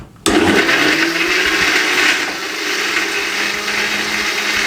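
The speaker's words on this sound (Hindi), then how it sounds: "थोड़ी सी बर्फ डालेंगे इसके अंदर और इसको दोबारा से 1 मिनट के लिए ग्राइंड करेंगे" A blender whirs loudly and steadily as it grinds a banana and date milkshake with added ice, starting abruptly after a brief quiet and holding a dense, even roar close by.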